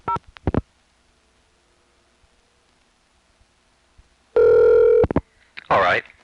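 A 1980s 1A ESS Centrex telephone line gives brief clicks from a hookswitch flash, then a steady dial tone for about half a second, followed by a quick burst of dialing tones.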